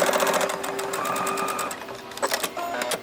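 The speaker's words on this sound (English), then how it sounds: "Now we're going to take this to the sewing machine and stitch across at 1/2 inch seam allowance." Sewing machine stitching a half-inch seam across a strap on bikini-top fabric, a rapid close mechanical chatter of needle strokes that runs steadily and then breaks into a few short, uneven bursts.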